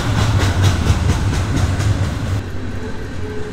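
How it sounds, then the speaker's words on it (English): A freight train rumbles past close by at night with a steady rhythmic clatter of wheels over rail joints, then the noise drops away as it moves off. "I'm going to wait till this train goes through and pick it up again."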